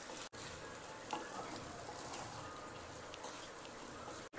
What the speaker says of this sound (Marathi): आता हे सगळीकडून छान आपण हलवून घ्यायचं आहे.